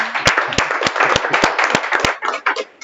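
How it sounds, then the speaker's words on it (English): Audience applause after a first-time builder's project presentation at a final showcase session: dense, steady clapping from a room of people, with sharp individual claps standing out, fading slightly near the end. "So I think that on its own gets another round of applause."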